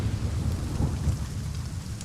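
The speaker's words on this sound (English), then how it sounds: "Water vapor condenses in the mountains, bringing abundant rainfall and fog." Heavy rain pours steadily in misty mountains in China, with low rumbling thunder rolling underneath, a dense continuous wash with no voices.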